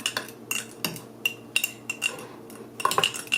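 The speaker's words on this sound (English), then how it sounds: "So I'm going to mix that in" A spoon mixes balsamic vinegar into homemade fermented mustard, giving a run of light clinks and scrapes against the container at an irregular pace, close and fairly quiet, with no talking.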